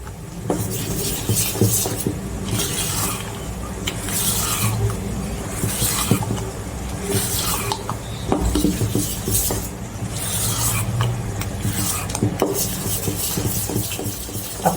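Dhokla batter, a Kathiawadi-style preparation with spinach, whisked briskly in a bowl, giving a steady scraping, rasping whir with faint clinks of the whisk against the bowl; close and continuous throughout, with no talking.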